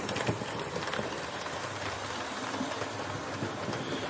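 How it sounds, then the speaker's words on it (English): A Hornby model of a Great Western Railway King class express locomotive runs through a model station, giving a steady, close rolling rumble with faint clickety-clack of wheels on track and no talk. "here's a superb King class running its way through the station here."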